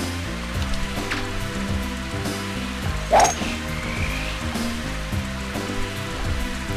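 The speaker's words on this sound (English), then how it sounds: "It would be nice if it would quit friggin' raining." Steady rain falls on a golf course in the video game Wario Golf, a constant wash of drops under game music, with one brief louder blip midway.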